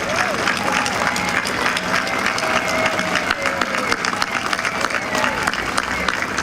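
An outdoor audience at the dedication of the National Holodomor Monument in Washington, D.C. applauds and cheers, a dense, loud wash of clapping with a few raised voices.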